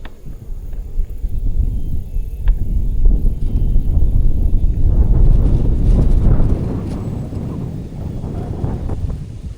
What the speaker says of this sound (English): Apologize for the wind noise.